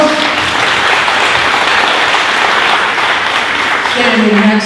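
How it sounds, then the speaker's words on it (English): A crowd at the 2018 Corvette Dream Giveaway award ceremony applauds Corvette Magazine writer Walt Thurn, a dense, loud, even wash of clapping that holds steady, with a voice starting to speak near the end. "Let's give Walt a round of applause."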